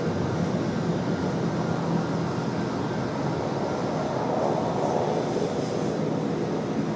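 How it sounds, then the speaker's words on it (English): A Qantas airliner departs Sydney Airport, a steady broad roar of jet engines, loud and sustained throughout without voices over it. "Passing the tower very, very nicely as well. See you later, Qantas 81."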